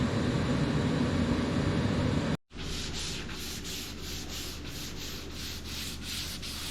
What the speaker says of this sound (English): we'll start working on getting this sanded and the final prep done for paint